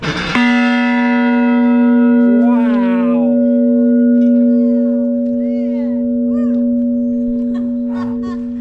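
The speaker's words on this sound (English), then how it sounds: "And here's this bell." A large bell in a walled garden of a historic Natchez home rings once with a loud, sustained metallic tone whose harmonics hang and slowly decay, while people speak and exclaim nearby.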